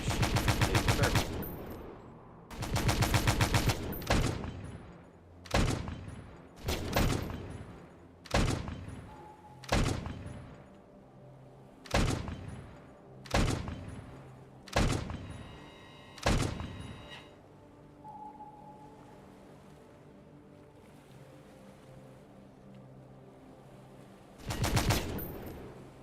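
Heavy ship-mounted guns firing in a naval simulation game, a series of about a dozen loud, evenly spaced booming shots with pauses between, then a single final blast after a quieter stretch.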